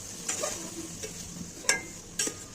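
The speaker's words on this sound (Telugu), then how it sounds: "రైస్ వేసుకున్న తర్వాత బాగా కలిపేసుకోండి" Vegetable fried rice being stirred and tossed in a frying pan, with a few sharp scrape-and-clink strikes of a spatula over a low, steady sizzle, close and fairly quiet, with no voices.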